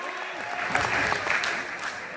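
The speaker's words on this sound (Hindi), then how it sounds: "एक बार बजाओ तालियां इनके लिए" An audience at a poetry recital claps for a nervous young poet on stage, a dense, even burst of applause from many listeners, with faint voices mixed in.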